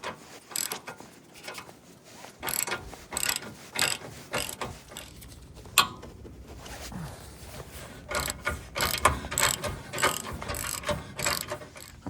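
A ratchet loosens the crash bar bolts on a third-generation Toyota 4Runner in quick clicking bursts, with pauses between the turns and no talk.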